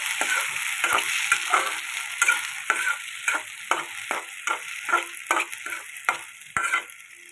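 Sago upma frying in a hot pan, with a steady sizzle and repeated scraping stirs at a regular pace, close and clear, with no talking.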